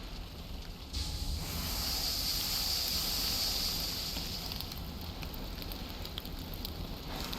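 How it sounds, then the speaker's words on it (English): Steady broadband rain hiss in the Valheim video game, a continuous wash of falling rain that swells after the first second and holds at an even, moderate level with a faint high whistle above it. "And we got rain."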